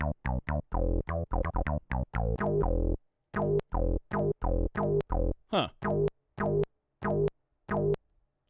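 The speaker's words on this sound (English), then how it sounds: "So the bass line should just sound like this." A bass line triggered from samples on an SP-404MK2 sampler, short punchy low notes in a quick then steadier rhythm, with one odd glitchy blip partway through, close and dry.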